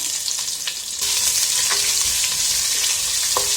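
Chopped onion hits a pan of potato masala, setting off a loud, steady sizzle and fry with scraping stir strokes and utensil clicks; the frying grows louder partway through and continues with no talk.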